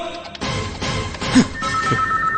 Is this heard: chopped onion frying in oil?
no